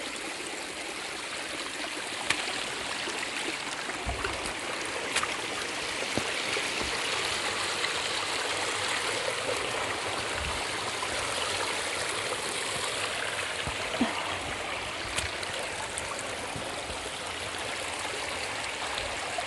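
A waterfall and stream in Scandinavia rush steadily and broadly, a dense continuous wash of flowing water close by with small splashes and no talking throughout.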